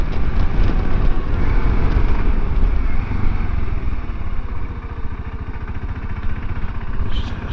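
Voge DSX650 motorcycle engine labouring in second gear around a roundabout, a steady loud close-up drone with wind rush, the throttle easing slightly partway through.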